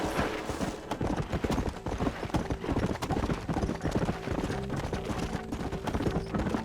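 Horse galloping in the video game Red Dead Redemption, a fast, steady clip-clop of hooves close up, continuous throughout, with occasional background game sounds and brief speech.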